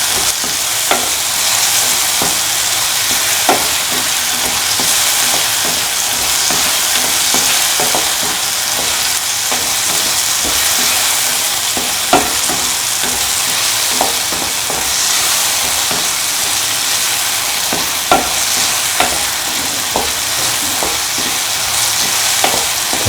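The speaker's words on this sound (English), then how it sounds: "Saute shallots." Shallots are sautéed in a hot pan for a vegetable stew, giving a steady loud sizzle. Occasional light scrapes and clicks of stirring continue throughout with no talking.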